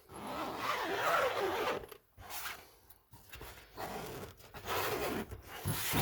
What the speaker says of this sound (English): these windows have zips on them.